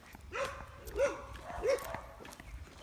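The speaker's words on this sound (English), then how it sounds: "Doggies." A dog barks three times at an even pace, a little distant, over a low background rumble.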